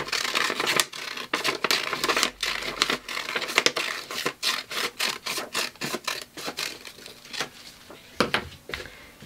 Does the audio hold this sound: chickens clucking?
no